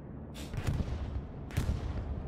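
Explosions in the Hell Let Loose World War II shooter: two heavy booms about a second apart, rumbling over steady low battlefield noise.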